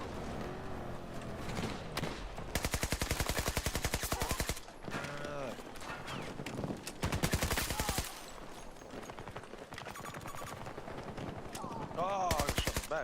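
Automatic weapon fire in Battlefield 2042 comes in several long, rapid bursts at moderate loudness, separated by shorter gaps filled with game noise and a voice talking over the action.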